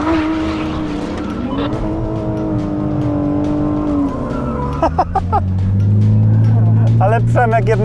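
Car engine revs hard as tires spin and squeal in long rising screeches, burning one tire, with people talking over it.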